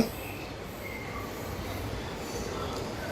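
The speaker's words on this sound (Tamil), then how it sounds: "கிட்ஸ் என்ஜாய் பண்றதுக்காக ஒரு குட்டி ட்ரெயின், டாய் ட்ரெயின் வச்சிருக்காங்க." A small kids' toy train runs inside Prozone Mall in Coimbatore, heard as a faint, steady rolling rumble blended into the indoor mall hubbub.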